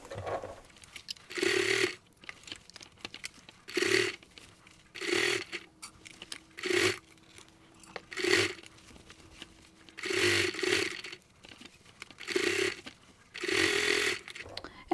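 A sewing machine stitches around a holiday stocking made from an old quilt, running in a series of short, close bursts of rapid mechanical whirring with brief pauses between them, where a quiet voice can be heard.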